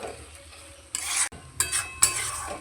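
Bottle gourd and moong dal ghonto is stirred in a pan, three or four brisk scraping strokes of a spoon over a quiet low background.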